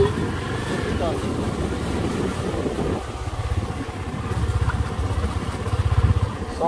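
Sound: Honda CB Twister 250 motorcycle riding a trail

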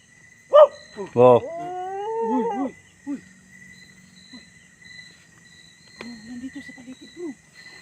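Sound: dog howling

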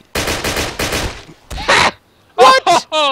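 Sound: World War II gunfire in Garry's Mod video game

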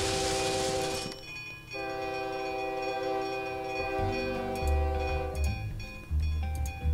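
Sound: fast trains running in the OpenTTD video game

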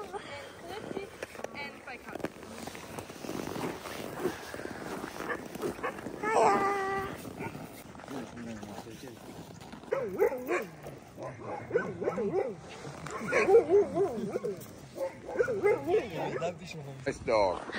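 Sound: huskies barking and whimpering in Lapland

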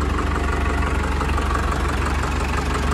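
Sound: Mahindra DI 35 tractor engine idling quietly

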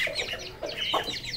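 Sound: rooster and hens clucking at feeding

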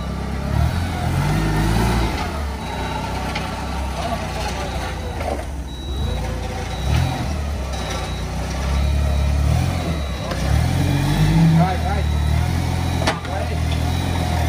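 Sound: car engine driving up onto a tow trailer

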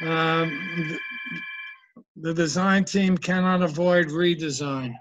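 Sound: telephone ringing

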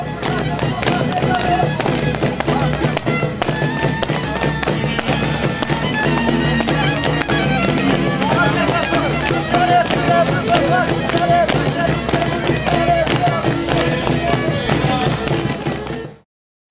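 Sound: fireworks display after a bonfire

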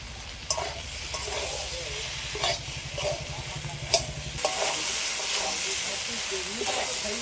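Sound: sautéing soybean and potato curry with yogurt

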